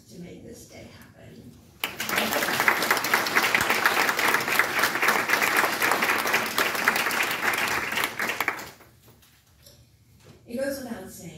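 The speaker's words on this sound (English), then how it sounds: "I hope you will join me in applauding the extraordinary amount of work they put forth to make this day happen" An audience at a ceremony breaks into sustained, loud applause that swells in after a spoken line and runs for about seven seconds before fading, with a voice speaking before and after.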